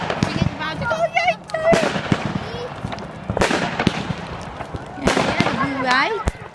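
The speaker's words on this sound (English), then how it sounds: "The fireworks everywhere!" Bonfire night fireworks exploding all around, with repeated sharp bangs and cracks and several rising whistles, some near and loud, others farther off, under excited voices talking and shouting.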